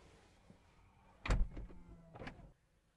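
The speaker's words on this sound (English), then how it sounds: "Once you step into the vehicle to close the door, you either hit this button here on the door or you hit the brake pedal." The electric rear door of a Zeekr X compact electric SUV closes under power: a quiet motor hum leads into a firm latch thud, followed by a second softer mechanical clunk as it seals, heard close with no talk.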